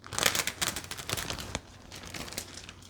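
A plastic poly mailer for packing orders crinkles and rustles up close as its strip is peeled and the bag is folded, in short uneven bursts.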